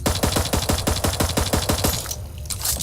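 Automatic gunfire aimed at a bug nest in Eden Star, a fast regular burst of loud, close shots for about two seconds before easing into ambient noise.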